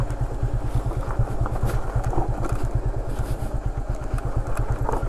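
A motorcycle engine rumbles in a steady low pulsing beat as it runs downhill on engine braking in the Kolli Hills, with light clatter from rough, stony ground.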